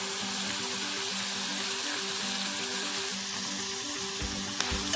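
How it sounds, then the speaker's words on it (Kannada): Capsicum cooking in a pan over a medium flame, a steady soft sizzle and frying hiss running throughout with faint stirring scrapes, alone without any talk and steady in level. "ಇದನ್ನೊಂದು 5 ನಿಮಿಷ ನಾವು ಮೀಡಿಯಂ ಫ್ಲೇಮಲ್ಲಿ ನಾವು ಇದನ್ನು ಬೇಯಿಸ್ಕೊಳ್ಳೋಣ."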